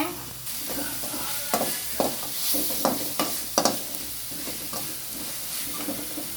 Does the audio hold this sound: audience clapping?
no